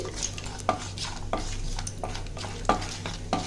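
Cashews, ten to fifteen of them, fry in a pan of oil for Basanti Pulao, giving a steady close sizzle broken by several sharp scrapes and knocks of a spoon stirring them, with no talk.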